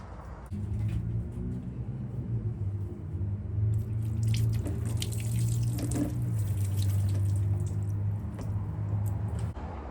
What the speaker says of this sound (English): Might help if I shut the water off first.